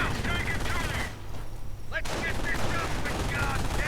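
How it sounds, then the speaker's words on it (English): Machine gun fire from a small position in a strategy video game bursts in rapid rattling volleys against dense battle noise, with a short lull midway, and no talking. "lots of machine gun fire here from a small position"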